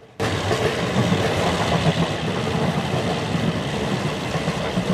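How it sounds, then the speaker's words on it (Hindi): A steady, droning train generator car hum in a railway video game starts abruptly and runs continuously at even loudness, like a generator running nearby. "अब तुम लोग पहले एक बार ये वाला साउंड सुनो जनरेटर कार का"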